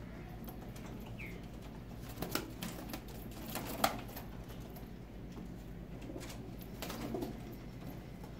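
Pigeons kept for sale coo softly in a quiet setting, with a few low calls and light clicking taps scattered through steady background hum.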